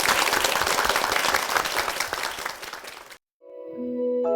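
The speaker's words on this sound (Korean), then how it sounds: "주님께 영광의 박수를 드리겠습니다" Applause from a church congregation after a Korean sermon, dense steady clapping for about three seconds before cutting off abruptly, followed by a short gap and a sustained tonal chime.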